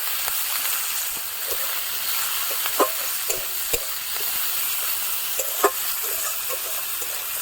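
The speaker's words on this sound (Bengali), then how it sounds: "এর মধ্যে আমি পেঁয়াজ কুচি দিয়ে দিচ্ছি।" Chopped onions frying in mustard oil left over from frying bhola fish for a spicy mustard bhola curry in a village kitchen, a steady loud sizzle with intermittent clinks and scrapes of stirring, no talking.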